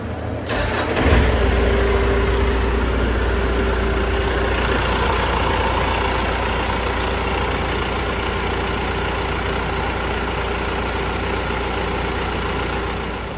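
A Gehl skid steer, freshly fitted with a new low-pressure fuel pump and rebuilt starter, cranks briefly and catches, then settles into a steady, loud diesel idle that runs on evenly for many seconds.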